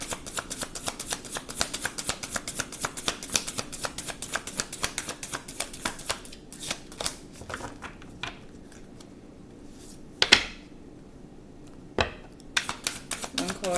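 A tarot card deck is shuffled rapidly for a one-card draw, producing dense close riffling clicks that thin out into a few isolated card snaps and taps.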